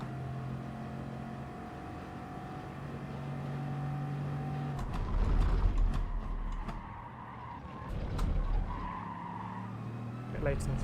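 A race car at Lago Maggiore in GT Sport revs and screeches as its tires skid and squeal through corners, with the engine rising and falling under a commentator's talk.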